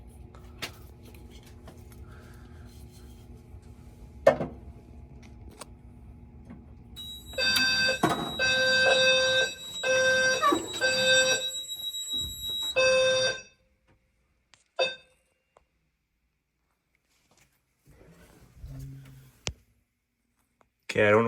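A home fire alarm system sounding during an annual full-system test: a loud, tonal electronic alarm blares for several seconds in pulsing bursts, followed by clicks of relays tripping and a brief chirp, with quiet room noise between.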